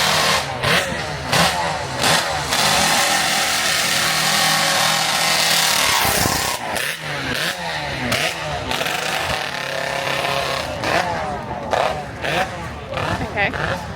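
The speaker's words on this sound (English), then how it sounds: "There is a motorbike coming." A motorbike engine revs repeatedly in loud, sharp bursts, rising and falling, close by at the Goodwood Festival of Speed, with voices audible in the background.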